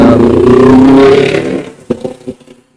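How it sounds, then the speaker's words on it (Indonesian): A noisy motorcycle passes outdoors, its loud engine roar filling the first second and a half before fading, followed by a few scattered clattering knocks as it moves off. "ada motor berisik guys"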